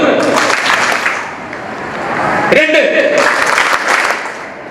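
Audience clapping together during a counting game at a parenting and happiness program, a dense burst of applause rising and falling under ongoing talk, with a voice calling out a number.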